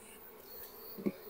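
Bees buzz softly around an opened beehive while the frames are being worked. The hum is faint and steady, with a brief louder swell near the end, and nobody speaks.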